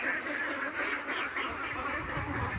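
Farm-raised ducks quack in a dense, overlapping chorus, loud and continuous with harsh nasal calls crowding one another close by.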